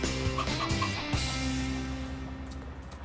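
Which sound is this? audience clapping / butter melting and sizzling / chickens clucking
chickens clucking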